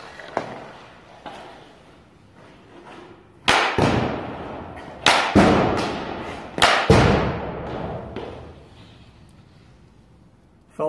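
Hockey slap shots with a Verbero Mercury V350 composite stick ring out as a series of sharp, loud cracks and thuds, several in quick succession mid-clip, with quieter taps before and after.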